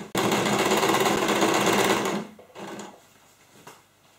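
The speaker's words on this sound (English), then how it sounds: "we've sewn in one side of the handle" Sewing machine stitching the handle of a bag made from jeans, a loud, fast, steady whirring run of about two seconds that stops, followed by a couple of brief, softer stitching bursts.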